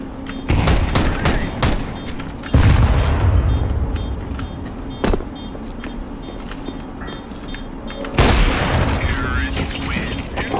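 Grenade blast in Counter-Strike 2 during a team match, one of several loud broadband bursts mixed with gunfire and game effects, with players talking over it.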